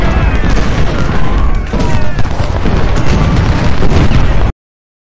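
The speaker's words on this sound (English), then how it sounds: "Shooting at that artillery unit right now" Booming cannon fire from Civil War artillery in the strategy game Ultimate General: Civil War at Malvern Hill, loud, dense overlapping blasts and pops rolling continuously for about four and a half seconds before cutting to silence.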